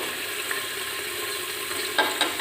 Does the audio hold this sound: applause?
no